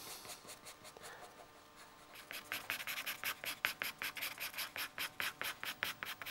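Pastel pencil strokes on paper, a soft scratchy rubbing that turns into rapid, rhythmic broad back-and-forth strokes, close and quiet with no talking.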